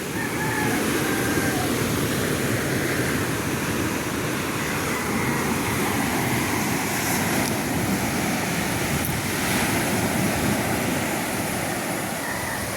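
Sea waves roll in on a coast where a boat sits, a continuous loud broadband roar with some wind rush and no clear pauses, without anyone speaking.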